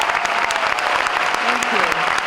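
An audience at a high school performance applauds, a dense steady roar of many hands clapping throughout, with a voice speaking faintly over it.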